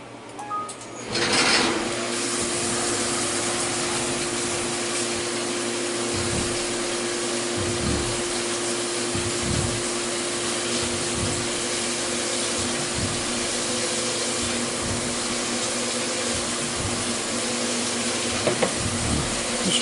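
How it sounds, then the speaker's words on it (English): A machine drill bit spins up and bores steadily into a ball nut mounting block, producing a continuous loud whir. Regular dips and pulses in the noise repeat through the cut, and no one speaks. "This drill bit has a tendency to hold on to the chips a little bit."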